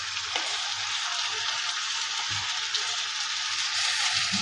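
Tomatoes and greens frying in a pan make a steady, close, loud hiss with fine crackle, plus a few soft low knocks from stirring.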